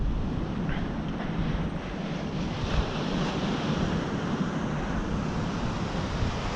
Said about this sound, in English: So just arrived at the beach.